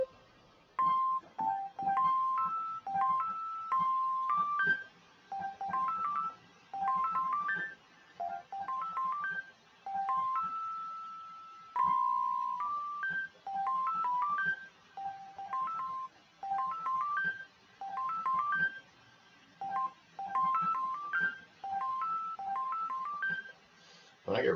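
Bright electronic beeps play short, quick melodic phrases like a video game one-up jingle, repeated several times with brief pauses between them.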